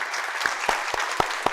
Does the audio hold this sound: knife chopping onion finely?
no